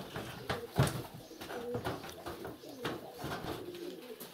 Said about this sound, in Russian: Вот мои хорошие голуби